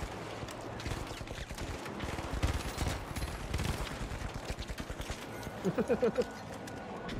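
Rapid gunfire aimed at a turret in the shooter game The Finals, a fast rattling volley of shots at moderate level, followed by a short cluster of sharp tonal hits near the end.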